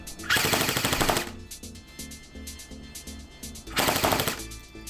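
An E&L AKS-74UN airsoft rifle fires full auto in two rapid bursts of closely spaced cracks, loud and near, with a quieter mechanical ticking between them.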